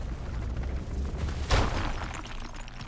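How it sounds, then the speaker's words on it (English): An explosion in the video game RuneScape: Dragonwilds, near a cave by a pillar, lands as a single muffled boom with a brief burst partway through, over steady game ambience. "Explosion."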